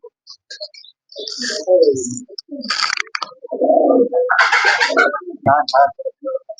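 Racing pigeons coo repeatedly at close range, throaty rolling calls mixed with wing flutters and scuffling, with a voice speaking briefly among them.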